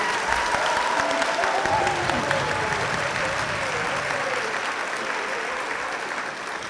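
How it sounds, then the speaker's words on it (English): An audience in a high school gym applauds steadily at a graduation farewell ceremony, the broad clapping staying loud throughout and easing slightly toward the end. "can we please give a huge round of applause to Ellie"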